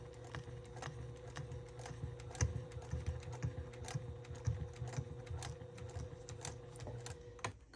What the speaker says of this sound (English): gently sew over the teeth of the zipper